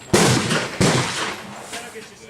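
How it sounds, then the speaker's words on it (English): Two sharp, loud revolver shots about two thirds of a second apart, each with a ringing tail: double-action fire from a .38 Special loaded with .35 Remington bullets, shot offhand at 25 yards on an outdoor range. "going to do some double action shooting now, 25 yards offhand"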